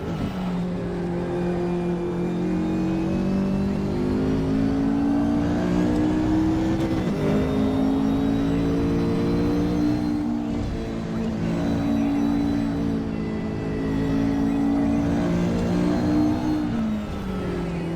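A McLaren GT race car engine in the racing game RaceRoom at Watkins Glen, a loud continuous engine drone rising and falling in pitch through upshifts and revs, with whirring layers over the full stretch and no talk.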